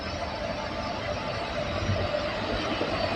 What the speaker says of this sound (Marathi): आता कोयना एक्सप्रेस विश्रामबाग रेल्वे स्टेशनवरून डिपार्चर होत आहे